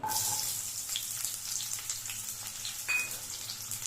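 Medium-sized sliced onion hitting hot oil for spicy chilli chicken gravy, an immediate close hiss that settles into a continuous bright sizzle, with a brief utensil clink near the end.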